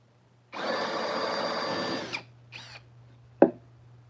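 An old drill press whirs for about a second and a half, then stops; a couple of brief clicks and a sharp knock follow in a quiet room.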